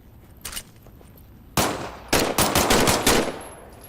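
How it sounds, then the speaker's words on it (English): Bursts of automatic weapon fire in a video game: a short early burst, then from mid-clip a loud sustained rapid volley of gunshots with several closely spaced bursts. "why don't you test fire your weapon?"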